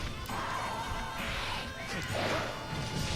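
Monster Hunter Generations battle with aerial attacks crashing down on monsters: a string of sharp smashing hits and whooshes over a busy game backdrop, moderately loud, with no talking.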